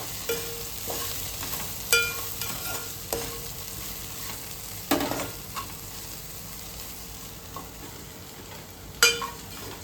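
Bitter gourd curry is stirred in a hot pan, with a low steady sizzle punctuated by several sharp spoon scrapes and clinks spread irregularly through the stretch.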